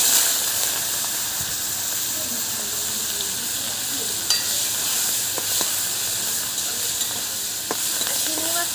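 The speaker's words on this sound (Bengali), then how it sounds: "তেল দিয়ে নিয়েছি, চিংড়ি মাছটা ভেজে নেব বলে চিংড়ি মাছে লবণ হলুদ দিয়ে দিয়েছি।" Shrimp seasoned with salt and turmeric frying in oil in a village kitchen, a steady close sizzle with occasional stirring clicks throughout.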